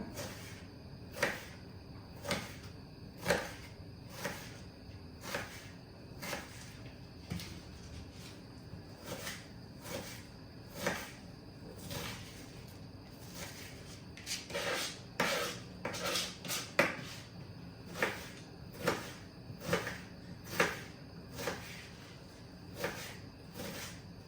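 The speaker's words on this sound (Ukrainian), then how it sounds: "зараз я вже собі буду приготовляти цибульку нарізати" A knife chops an onion on a board in a quiet series of sharp taps, spaced roughly evenly and sometimes bunched, continuing for over twenty seconds with no talk.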